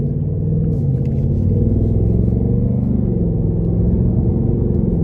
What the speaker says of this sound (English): still fun to drive, still quick, still has a lovely exhaust note